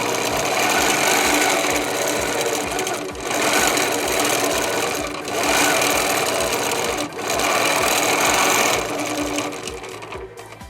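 Sewing machine stitching in bursts, a loud steady mechanical whir broken by brief pauses as it starts and stops, about five runs in a row.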